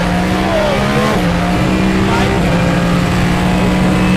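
Billed as the world's loudest car, it starts off and accelerates with a loud, continuous engine drone and a rising whine, the steady roar running from start to finish.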